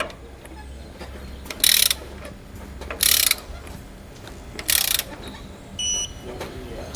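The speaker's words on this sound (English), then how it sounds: "We can now go back and tighten down our bolts with our 13mm socket." A ratchet wrench with a 13mm socket tightening bolts on a rear anti-sway bar install for a 2018 Ford E-Series cutaway, three loud close bursts of rapid clicking separated by pauses, with a brief metallic clink near the end.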